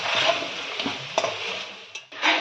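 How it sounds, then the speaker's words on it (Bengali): Raw potato pieces fry in hot oil in a pan, a close, hissing sizzle broken by a few scraping stirs of a spatula, the crackle rising and dipping briefly near the end. "আমরা আলুগুলো কাঁচা অবস্থায় ভেজে নিলাম"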